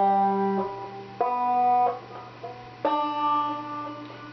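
Banjo strings are plucked one at a time, each ringing a different note, with several separate twangy attacks spaced over a few seconds, close and clear with no voices.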